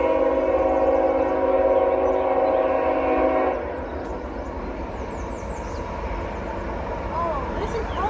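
A CSX freight train at a road crossing sounds a loud, sustained horn blast, then gives way to the steady rumble and clatter of its cars rolling past.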